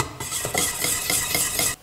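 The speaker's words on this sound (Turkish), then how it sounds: "Ve bir paket şekerli vanili içine ekleyerek tekrar karıştırıyorum." A spoon stirs thick pastry cream in a pot right after vanilla sugar is added off the heat, giving a close, continuous scraping swish with soft rhythmic strokes.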